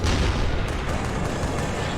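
Explosion in the video game Resistance: Fall of Man, a loud booming blast that opens heavy and decays into a rumbling wash of noise with scattered crackling for about two seconds.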